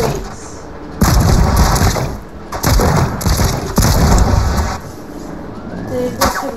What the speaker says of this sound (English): We only shoot the cannons.